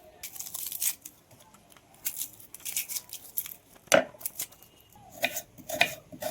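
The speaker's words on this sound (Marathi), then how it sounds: "तर चला आता मागचा पुढचा भाग कापून घेतो" A knife trims the ends off a medium onion on a board, giving a few crisp close cuts and small slicing and handling noises in an irregular pattern, with quiet gaps between them.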